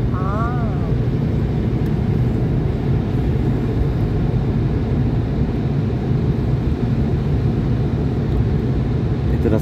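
Steady jet engine roar of a LOT Polish Airlines airliner taxiing to the runway at Kraków Balice, a continuous broad drone with voices faintly underneath.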